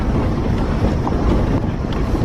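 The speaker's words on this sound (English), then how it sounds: "film this spectacular waterfall that's coming down" A spectacular waterfall in Nepal pours down, heard as a loud, steady broadband roar mixed with wind buffeting the microphone.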